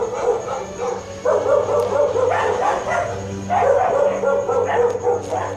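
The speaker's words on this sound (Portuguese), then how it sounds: "Esses cachorros só latem na hora que a gente está aqui." Several dogs bark repeatedly in the background over a steady hum, somewhat distant and overlapping.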